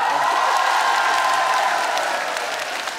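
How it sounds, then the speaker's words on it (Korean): Sustained, dense applause from a Korean outdoor concert audience in Chungcheong province at the Yeongdong dried persimmon festival, steady and loud throughout before easing slightly near the end, with no talk over it. "가수 38년 만에 충청도에서 이런 박수 처음 들어봤다"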